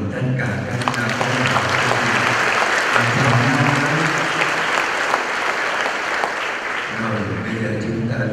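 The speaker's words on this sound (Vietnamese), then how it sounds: "Bây giờ chúng con vỗ trầm vỗ tay chào mừng tất cả các con." Applause fills the hall as new college students are welcomed at a Catholic college opening ceremony, a dense, steady patter of many hands lasting throughout, with voices murmuring beneath.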